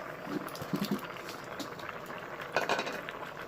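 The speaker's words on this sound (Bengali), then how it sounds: "শুধু চাল আর ডাল ফুটছে সাথে নারকেল আছে ওরাই ফুটছে" Rice and dal with coconut bubble softly in a pot for khichuri, a faint steady simmer broken by a few light clinks of a utensil against the pan.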